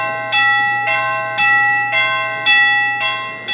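A SadoTech CXRi wireless doorbell chime rings out, its clear two-tone ding-dong repeating steadily and loudly over a faint low hum, with no voices.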